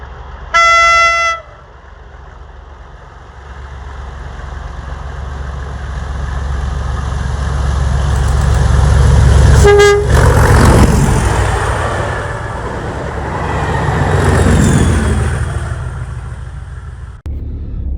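A train, running late, approaches with a short, loud horn blast at the start, then a rising rumble and a second, fainter horn as it draws near and passes close by, with no talk.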